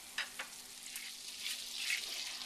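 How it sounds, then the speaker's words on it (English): Butter melts in a single pan, giving a faint, soft sizzle with a couple of small ticks early on, building slightly toward the end with no talk over it. "we're melting our butter"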